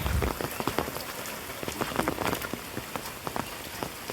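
Heavy monsoon rain pours down close by in the Konkan region during flooding, with dense patter and sharper drops striking a surface throughout.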